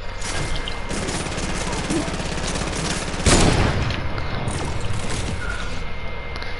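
Video game gunfire rattles in a dense, continuous stream behind a constant noisy background, with one sharper burst near the middle.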